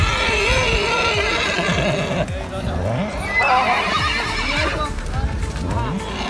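Horses at a horse race in Kunnamkulam, Thrissur, Kerala, with a neigh and clip-clopping hooves close by amid a busy crowd, and people talking over the animals throughout.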